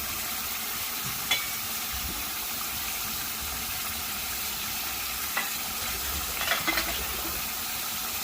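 Boiled, ground spinach sizzles softly in a pan for chicken palak curry, with a continuous low frying hiss and a few brief spoon scrapes and clinks as it is stirred.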